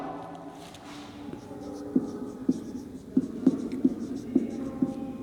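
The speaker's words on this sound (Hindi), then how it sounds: "जो बचत है उसका फॉर्मूला मैं लिख रही हूँ यहाँ पर" Chalk or marker tapping and scratching on a board as a formula is written in an economics class, a series of short distinct strokes at a steady pace, close and fairly quiet.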